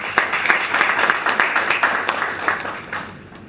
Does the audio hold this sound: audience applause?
yes